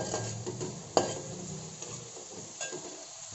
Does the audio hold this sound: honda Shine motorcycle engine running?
no